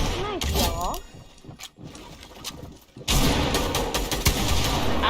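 Sharp sniper rifle shots ring out in Fortnite Creative, loud broadband cracks that grow into a dense burst of gunfire in the second half, mixed with game effects and a brief voice near the start.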